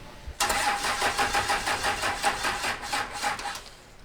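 A hot rod diesel ramp truck cranks and fires up, its engine catching into a rough, rhythmic idle, loud and close, with no talking over it.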